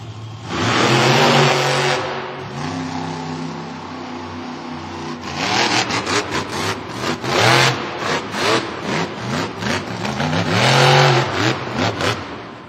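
Monster truck Jurassic Attack roaring through a timed Monster Jam run in a stadium, its engine revving hard in repeated surging bursts and rising whines, loud and echoing with no talk.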